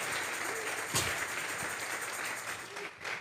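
A church congregation claps together during a service, giving a dense, steady wash of applause that carries on without a break, with faint voices mixed into it.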